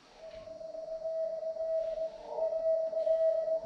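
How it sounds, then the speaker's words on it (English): Morse code tones on ham radio: a faint, single-pitched electronic beep that holds almost continuously with brief breaks, heard alone without speech. "if you ever want to learn Morse code, get hold of Ben or get hold of me"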